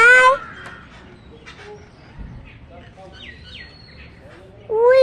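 Small birds call and chirp outdoors, short high tweets scattered across the stretch, with a person's voice calling out at the start and again at the end.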